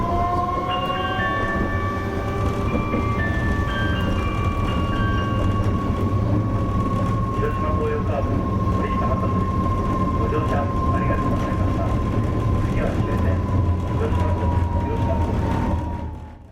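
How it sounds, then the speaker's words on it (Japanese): A Hiroden streetcar tram runs through Hiroshima, heard from on board as a steady rumble and rattle on the rails, with a long, high wheel squeal sustained over the ride and fading out at the end. "広電は思っていた以上に高頻度で運転され、前後にも車両が見えますし、対向列車ともよくすれ違いました。"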